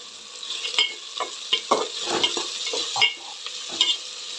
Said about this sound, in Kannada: ಹುರ್ಕೊಂಡ್ಮೇಲೆ ಒಂದು ಸ್ವಲ್ಪ ಕಾಯಿ ತುರಿ ಸೇರಿಸ್ಕೊಳ್ತಾ ಇದ್ದೀನಿ.